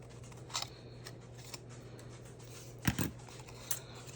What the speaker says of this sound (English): Come from the left a little bit on here and cut, and then cut away this piece here.